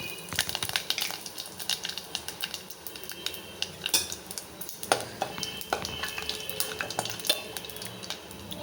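A metal spoon stirs and scrapes as cinnamon, fennel and cloves sauté in a pan, with dense rapid clinks and scraping taps over a faint sizzle, close and continuous, with no talking.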